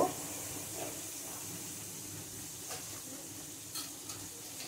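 A spice paste fries in a pan with a soft, continuous sizzle and hiss, broken by a few faint stirring scrapes; quiet and close with no voices.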